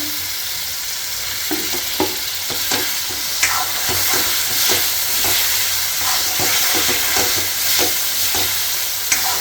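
Paneer cubes tumble into roasted masala spiced with garam masala and get stirred, steady frying sizzle with scraping spoon strokes and soft clinks, close and continuous with no talking.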